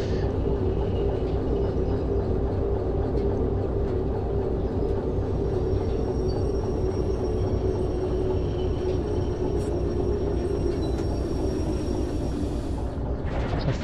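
A locomotive in the train simulator Derail Valley runs with a steady low rumble and rattling, loud and unbroken throughout, with no talk.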